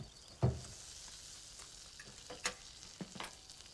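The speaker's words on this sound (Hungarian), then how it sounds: "Ó, Fincsi, sült hús." Meat frying in a pan, a faint continuous sizzle with a few sharp stirring clatters and knocks scattered through it, quiet and close with no speech.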